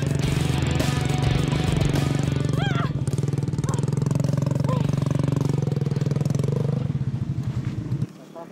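Ojek motorcycle taxi engine labouring on a rough, steep jungle trail, a loud steady close drone with uneven revving that cuts off near the end, with a voice talking faintly underneath.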